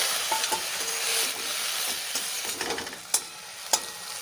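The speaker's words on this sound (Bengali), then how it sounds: "আমি ওই তেলটার মধ্যেই দিয়ে দিচ্ছি লাউ পাতা এবার আমি লাউ পাতাটার উপরে স্বাদ মতো লবণ দিয়ে দিচ্ছি দিয়ে একটু নাড়াচাড়া করে নিয়ে" Bottle gourd leaves frying in oil with salt while being stirred, a continuous close sizzle broken by scraping stirs and a couple of sharp utensil clinks near the end, no talking.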